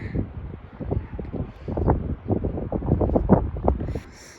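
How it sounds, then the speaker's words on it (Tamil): Strong wind buffets the microphone outdoors during a snowstorm in downtown Halifax, a steady rushing roar with repeated gusty bursts and rumbling thumps over about four seconds, loud and close, with no talking. "இந்த விண்டு சவுண்டு கேட்டாலே உங்களுக்கு தெரியும்னு நினைக்கிறேன் எப்படி காத்தடிக்குதுன்னு"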